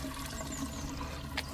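Water runs steadily from a public fountain that does not supply drinking water, a continuous close splashing wash that fills the whole short stretch with no voices.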